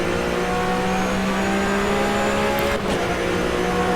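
Porsche 911 GT3 Cup race car on the Zandvoort circuit in rFactor 2, its engine droning loud and steady at high revs with a brief dip like a gear change near the end, no voices.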